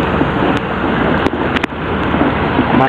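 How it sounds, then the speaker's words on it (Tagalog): Large sea waves wash at the shore during a fishing trip, a continuous broadband roar of surf with wind buffeting the microphone and a few sharp knocks, steady and close. "Ang laki ng alon."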